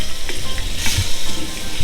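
Chopped garlic fries in a couple of tablespoons of hot oil for jambalaya, making a loud, dense, continuous sizzle and crackle close by, with no voices over it.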